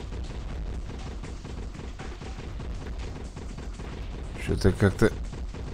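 In a zombie survival video game, a short burst of three or four sharp gunshots rings out near the end, following quiet talk over a steady background of game sound.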